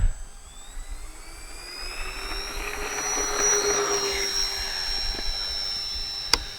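A model RC OV-10 Bronco warbird takes off with flaps set: a steady, whining engine drone swells to a peak and then eases, with a sharp click near the end.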